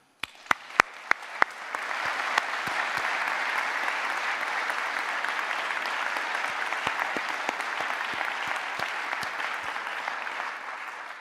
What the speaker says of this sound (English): I'd like to applaud you for that